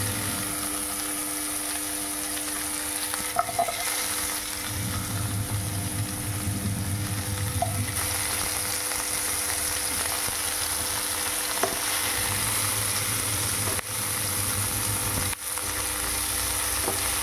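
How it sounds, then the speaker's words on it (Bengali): Pieces of bitter gourd fry in hot oil with a continuous crackling sizzle that holds steady and close throughout, with no talking. "এবার আমরা করলাগুলো দেব তেলের মধ্যে, দিয়ে ভালো করে ভেজে নেব।"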